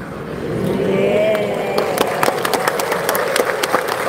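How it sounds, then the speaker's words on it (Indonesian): Applause from a congregation during a Catholic priest's talk on marriage, light and scattered, rising after a couple of seconds into a steady patter of many hands over a low room murmur. "Tolong jangan tepuk tangan"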